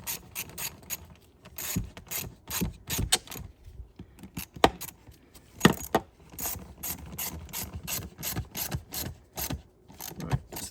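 A ratchet clicks as bolts are tightened back up on a Vauxhall Corsa, close, loud bursts of fast pawl clicks in repeated strokes with short pauses between them, plus occasional metallic knocks, and no talk.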